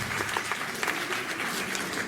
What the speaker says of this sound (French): J'espère qu'on peut les applaudir même pour ça.